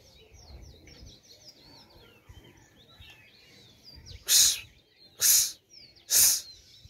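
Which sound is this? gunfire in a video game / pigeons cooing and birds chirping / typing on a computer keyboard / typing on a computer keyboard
pigeons cooing and birds chirping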